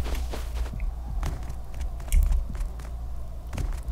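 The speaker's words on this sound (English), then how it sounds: "sound like footsteps." Footsteps in the video game Rust, a series of crunchy, irregular steps with faint creaks and crackles, moderately close over low ambient rumble, no talk.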